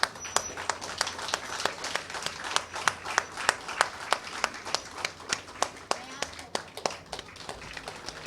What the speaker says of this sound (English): I would request you all to stand up and applaud Mataji for enlightening us.